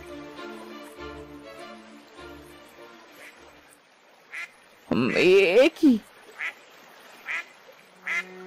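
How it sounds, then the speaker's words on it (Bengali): A cartoon goose with a golden spot on its forehead, injured, lets out a loud burst of honking calls, then several shorter honks that repeat over soft background music, after a brief spoken question. "কি সুন্দর রাজহাঁস"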